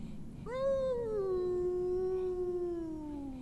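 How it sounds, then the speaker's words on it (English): A long, eerie wolf-like howl rings out from outside a tent as a sound effect, rising sharply and then holding a sustained falling tone for about two and a half seconds over a low background hum. "you hear a terrible howl from somewhere outside the tent"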